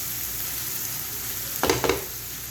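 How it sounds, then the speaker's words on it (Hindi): Ginger garlic paste frying in a pan for a Punjabi rajma curry, a steady close sizzle with two quick louder scraping bursts of stirring near the end. "अदरक लहसुन का जो पेस्ट है वो इसके अंदर डाल दूंगी। बस अच्छे तरीके से इसको करेंगे कुक।"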